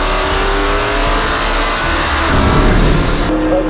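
McLaren P1 hypercar in race mode accelerating hard on a track, a loud close engine note climbing steadily in pitch with a brief shift near the end, no voices.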